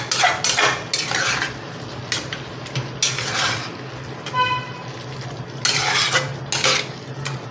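Spoon scraping and clinking against a pan while tandoori cauliflower paneer masala is stirred, in repeated bursts of metallic scrapes and knocks, close and fairly loud.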